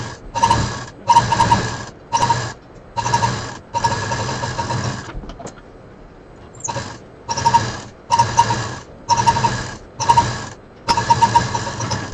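A sewing machine stitches fabric pieces for a quilted handbag in close, rapid, rhythmic bursts of several seconds each, separated by brief pauses.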